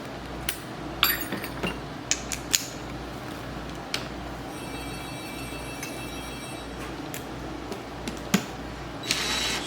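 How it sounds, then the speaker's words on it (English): A plain steel string being wound onto a tuning peg: close, faint, irregular creaking and ticking with a few sharp clicks and a brief metallic ringing partway through, over a low steady hum. "Stick just a little bit of it through the tuning peg, about a 1/4 inch at the most, and wind it on."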